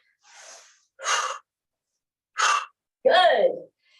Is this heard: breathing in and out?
yes